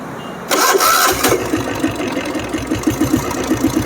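A 1983 diesel Bullet motorcycle fires up on its self-start button: a short starter whir, then a loud catch into a rapid, steady diesel thumping idle that continues evenly.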